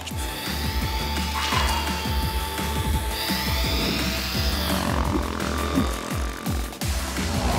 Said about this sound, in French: Laissez passer l'hélico.